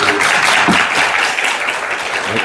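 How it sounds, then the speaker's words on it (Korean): A church congregation at a Sunday service bursts into warm applause welcoming a missionary to the front, dense steady clapping from many hands filling the room throughout. "뜨거운 박수로 이건"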